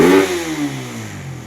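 A misfiring car engine revs sharply up close, then the pitch slides down as it settles back toward a rough idle, loud and alone.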